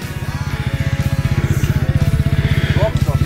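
A motorcycle rides up nearby, its engine putting out a loud, rapid low pulsing thump that stays steady throughout, with someone speaking over it.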